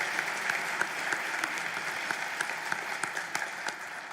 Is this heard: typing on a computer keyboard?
no